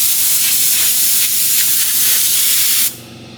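An aerosol sprays onto a car headliner in a loud, continuous hiss with slight pulses for nearly three seconds, then cuts off abruptly into quiet.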